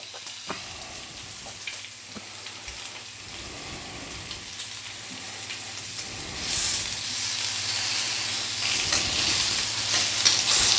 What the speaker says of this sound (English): I'll whisk that, then that goes in to be scrambled